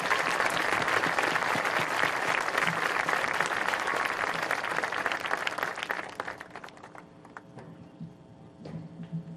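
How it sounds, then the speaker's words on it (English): Audience at a 2021 high school graduation ceremony in Herkimer breaks into loud, sustained applause that fills the room, then thins out over the final seconds into a few scattered claps. "Would you please join me in a round of applause to recognize these dedicated individuals"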